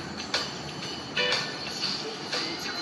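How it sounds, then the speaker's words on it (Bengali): A train in a video game, Dude Theft Wars, rumbles steadily along with a continuous rolling hum, punctuated by a few brief metallic clanks and squeaks; no voices. "হ্যাঁ, এটা হচ্ছে ট্রেন।"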